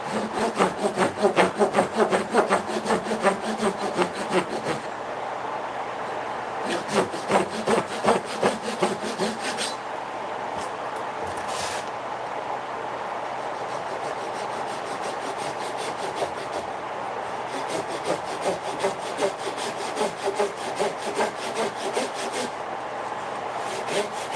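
Handsaw cutting wood for mortise-and-tenon joints on a wooden tote board: steady rhythmic rasping strokes, loud and close, in bursts with short pauses between sawing runs.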